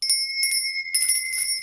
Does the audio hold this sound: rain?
no